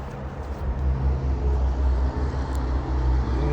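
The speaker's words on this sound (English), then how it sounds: "you don't like the sound of those big trucks." Low, steady rumble of heavy road traffic with large vehicles passing nearby, continuous and fairly loud throughout.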